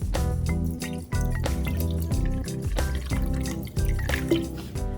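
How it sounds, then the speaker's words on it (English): Sparkling water pours into a glass of rose lemonade over ice, a steady bubbling, trickling fill with irregular fizzing and drips, close and clear with no talk. "then top it off with sparkling water."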